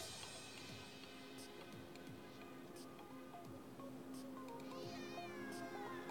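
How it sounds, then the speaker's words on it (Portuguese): Cat meowing repeatedly inside the Mobile Legends mobile game, with rising and falling mewing calls over a steady background of game music and ambience; no one speaks. "Olha o gato, mano. Coitado do gato morrendo."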